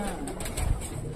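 Fancy pigeons in a pigeon loft give low, soft cooing that runs steadily under a faint background hum, with brief higher calls and a possible wing flutter mixed in.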